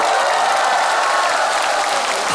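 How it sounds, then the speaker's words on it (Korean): A concert audience applauds for the backing team at a Korean trot singer's stage show, a dense, steady wash of clapping that holds loud and unbroken throughout. "수고해주신 장르팀들한테 너무나 박수를 주시겠습니다"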